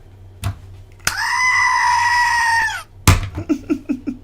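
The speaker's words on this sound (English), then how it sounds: "Billy the goat." A goat gives one long, loud, strained bleat, close to the listener, followed by several shorter, quicker bleats after a sharp thump.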